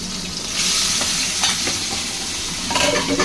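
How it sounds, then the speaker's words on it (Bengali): Tengra fish full of roe frying in hot oil, a loud continuous sizzle with a few brief pops and crackles as the fish burst, close and with no voices. "এই যে ফাটছে ডিম ভর্তি রয়েছে মাছগুলো তো ফাটবেই"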